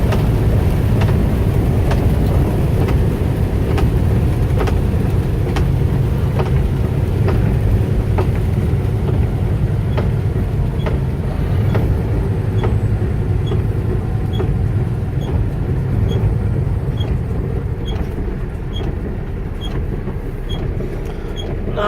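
An old truck that had not been run for a year roars at highway speed around 75, a loud steady engine drone with rumbling road noise and a rhythmic ticking, easing slightly toward the end without talk.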